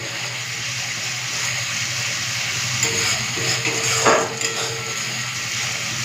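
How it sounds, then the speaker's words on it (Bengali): Spice masala stirred and fried in a pan for a Bengali chicken curry with potatoes, with continuous sizzling under the scrape and clink of a spoon against the metal pan and a louder knock near the end. "চলো দিয়ে দিই তো মশলাটা আর একবার নেড়ে দিই"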